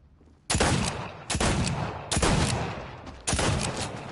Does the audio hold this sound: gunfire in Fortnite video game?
yes